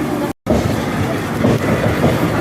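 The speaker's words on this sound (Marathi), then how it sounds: "पनवेल गाडी येत आहे प्लॅटफॉर्म क्रमांक सात" A train arriving at platform seven of Seawoods-Darave station, rumbling steadily close by, a continuous loud roar of wheels on track with a short gap near the start.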